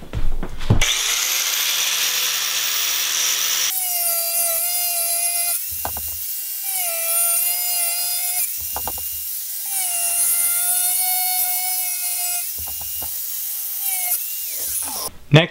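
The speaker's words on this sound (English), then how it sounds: "I'm going to use the angle grinder." An angle grinder cuts through a 4-inch pipe for a ram pump pressure tank build, a loud continuous high whine that spins up, then bites into the pipe in several sustained cutting passes broken by short pauses, with no talking.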